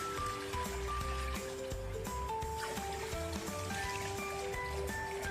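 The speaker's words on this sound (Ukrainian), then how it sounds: "заливаємо водою" Water is poured over meat seasoned with vegeta and black pepper in a pot, making a steady splashing and trickling that rises in pitch as the pot fills, under soft kitchen noise.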